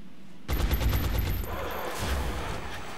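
A sudden burst of suppressing gunfire in the tactical game Xeno Hunters: rapid, evenly spaced shots fire loud and close for about a second, then fade into a rumbling tail with no voices.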